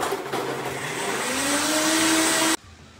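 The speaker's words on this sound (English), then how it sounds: "Blend the blueberries, milk, ice cube, kosoe powder, ice cream, and honey in a blender until frothy" A loud blender whirs steadily through blueberries, milk, ice, mealworm powder, ice cream and honey, its motor pitch rising slightly as it runs, then cuts off abruptly near the end, leaving quiet room tone.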